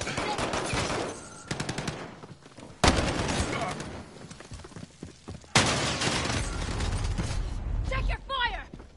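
Rapid automatic gunfire in the video game A Way Out, loud and dense in several sustained bursts with sharp single cracks, overlapping shouting voices throughout.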